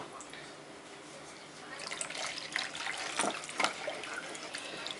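One cup of water pours into a bowl of brownie cheesecake cupcake batter with a soft, splashing trickle that grows stronger midway, close to the microphone in a home kitchen.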